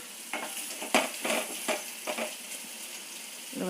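Soft bubbling and sizzling from a pan of lentil and ridge gourd stew simmering, with a few scraping stirs of a spoon at irregular intervals, fairly quiet.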